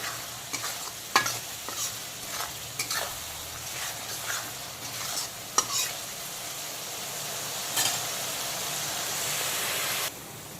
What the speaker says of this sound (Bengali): এখন বেশ কিছুক্ষণ পেঁয়াজ বাটাটাকে আর চেরা কাঁচা লঙ্কাটাকে আবারও ভালো করে কষিয়ে নেব।